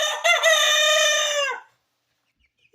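A rooster crows loudly and close in a kitchen, one long harmonic cock-a-doodle-doo lasting about a second and a half, followed by quiet and a brief faint sound at the end.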